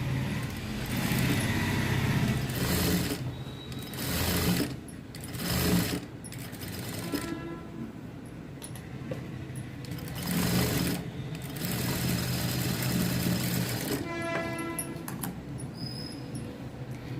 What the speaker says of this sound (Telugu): ఈ పై వైపున డబల్ కుట్ అనేది వేసుకోండి.